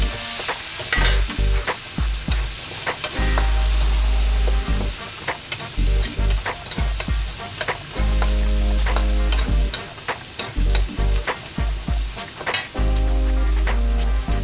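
Onion frying in melted butter in a pan for Marikina-style menudo, a continuous loud sizzle broken by repeated scraping and stirring clatter of a utensil, with no voices.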